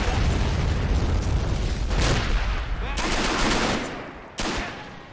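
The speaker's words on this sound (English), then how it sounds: "Oh, great. Grenade." Grenade blasts and gunfire in the WWII strategy game Men of War: Assault Squad, a string of loud booming explosions and crackling bursts, with distinct blasts near two, three and four seconds over continuous battle noise.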